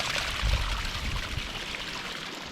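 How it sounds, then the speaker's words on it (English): Hot spring water in Lares, Peru flows and pours in a steady close rushing splash, loudest early and then settling into a continuous gurgling stream. "It's all hot water too."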